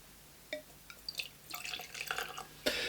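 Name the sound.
pouring rum into a glass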